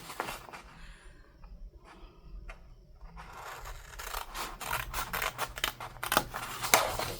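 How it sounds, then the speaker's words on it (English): Scissors snip through a paper file folder in a craft project, a run of quick, close cutting strokes, sparse and soft at first, then denser and louder with crisp rasping snips toward the end. "And then you just cut that other piece off there."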